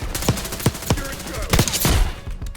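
Rapid sharp shotgun blasts from a first-person shooter match in Call of Duty Black Ops 6 on a large map, several loud reports in quick irregular succession with faint game noise between.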